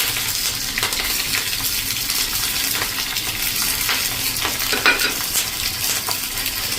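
Curry leaves and a few chilli pieces sizzle loudly in hot cooking oil, with a continuous crackling hiss, occasional pops and light metallic clinks from stirring.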